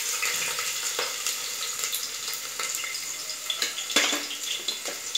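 Chopped onion sizzling in hot oil in a pan, a steady bright crackle with scattered pops and stirring clatters throughout, close and fairly loud with no voices.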